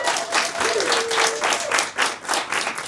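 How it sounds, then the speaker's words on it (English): Fringe theatre audience in a small café venue claps warmly, with pulsing waves of applause and a brief voice or whistle tone rising through the crowd. "if you could please give a round of applause to the Liberots Theatre Cafe"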